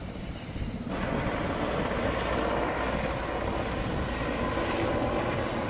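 A steady, loud roar of a firefighting aircraft engine over a wildfire fills the air continuously, with no voices, as if the plane passes low overhead.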